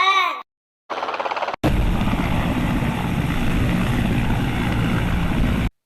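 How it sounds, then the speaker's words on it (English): A helicopter sound effect plays in a children's alphabet song: a loud, close rotor drone with a rapid, chopping throb that lasts several seconds. It follows short musical tones and cuts off abruptly. "H for helicopter."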